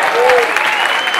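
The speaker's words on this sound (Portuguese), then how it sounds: "aplauso pra ele" Steady, loud applause from a comedy show audience, dense clapping filling the whole moment with a brief crowd voice near the start.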